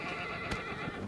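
A horse in Shadow of the Colossus gives a single short, fairly quiet neigh, with faint hoof clip-clops and in-game ambience around it and no voice.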